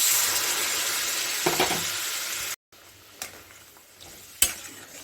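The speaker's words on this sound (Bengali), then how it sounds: "আমি এখন এর মধ্যে গরম জল দেব আমি গরম জল দিচ্ছি" Hot water goes into a hot pan of fish curry with green chillies, bursting into a loud hiss that fades to a bubbling sizzle, with a brief break and a few sharp utensil knocks.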